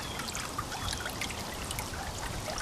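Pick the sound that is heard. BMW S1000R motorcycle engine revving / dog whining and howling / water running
water running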